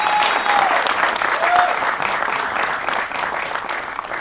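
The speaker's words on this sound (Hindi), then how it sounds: "एक बार जोरदार तालियां यार।" Loud, steady audience applause at a live show, a full crowd clapping continuously at close range with a few faint shouts rising above it.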